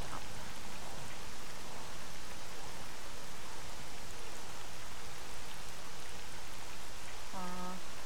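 Steady, dense rain hisses without a break across a video game scene set in Pripyat, with a brief soft tone near the end and no clear speech.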